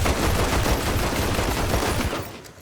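Rapid, dense gunfire from an infinite-ammo weapon in Red Dead Redemption 2 roars loud and continuous, shots blurring into a sustained barrage before cutting off abruptly.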